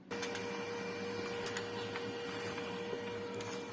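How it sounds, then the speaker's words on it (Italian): An inkjet-style printer runs steadily printing paper templates for a DIY two-stroke exhaust model, a continuous whirring drone with a steady tone and occasional clicks of the print head, close by. "Voi andate qua su print, selezionate la stampante"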